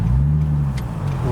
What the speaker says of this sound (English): got the E63 AMG departing the show in front of us